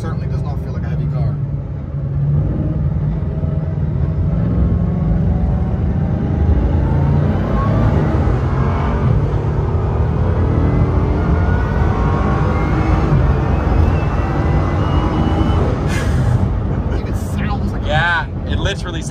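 A Bugatti Chiron Pur Sport accelerates hard, its engine a sustained loud roar with a rising whine and heavy wind rush inside the cabin, steady for the whole stretch.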